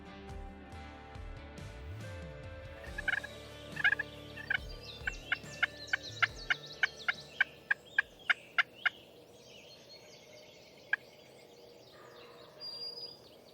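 A hot wild turkey gobbler sounds off in spring woods during a morning hunt, a rapid run of sharp gobbles and clucks repeating around the middle of the stretch, fairly close and clear over quiet background, with one more gobble later.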